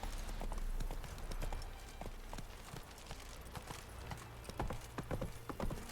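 Horse hooves clip-clopping in the video game The Witcher 3, in a steady, quick rhythm, moderately close, over a low background rumble.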